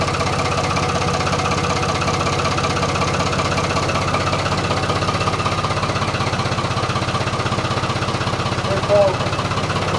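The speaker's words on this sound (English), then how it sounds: "he loves his Ford tractor" Old Ford tractor engine idling on a farm in rural central Portugal, a loud, steady chugging rumble with a rapid even pulse that continues throughout, close by.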